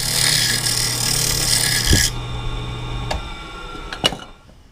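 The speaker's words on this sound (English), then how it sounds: "I'm just going to clean this out and sand it and try to get a nice uniform inside surface." Sandpaper rubs the inside of a spinning wooden lidded box on a wood lathe, making a steady close hiss that stops partway through, followed by a few light knocks and clicks.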